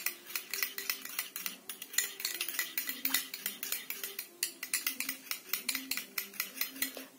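A spoon stirs aloe vera gel in a bowl for homemade hand sanitizer, giving steady rhythmic metallic scraping and clinking against the bowl, close and continuous with no talk.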